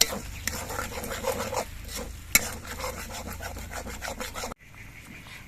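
Spice paste with cashews, melon seeds and poppy seeds is stirred and fried in a pan, a steady scraping and rubbing with a faint sizzle that cuts off abruptly near the end.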